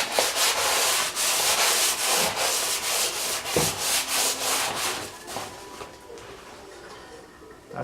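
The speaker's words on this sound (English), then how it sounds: "now I got to scrape all this varnish off here and then probably sand it" Steady rasping scrape of old varnish being stripped from a wooden axe handle, repeated strokes in a quick rhythm, close and fairly loud, easing off toward the end with no talk.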